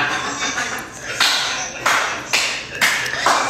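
A few sharp hand claps land in an irregular rhythm, up close and fairly loud, over a background of voices and room noise during a live stream.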